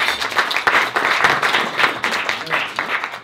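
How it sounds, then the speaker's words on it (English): A room of guests at a community forum and dinner gives a steady round of applause, dense, continuous clapping lasting about three seconds with some voices mixed in. "we want to salute JP Updates and give a round of applause for that."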